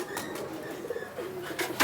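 A white pigeon brought from the border gives soft, low rolling coos close by, a few burbling phrases with light flutters and rustling at the end.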